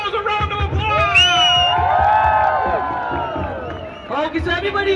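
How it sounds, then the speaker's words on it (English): A crowd cheers, whoops and claps at a Christmas event in a shopping mall, many excited voices including children shouting loudly together over a sustained din. "Give yourselves a round of applause."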